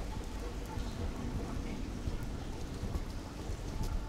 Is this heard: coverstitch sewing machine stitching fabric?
no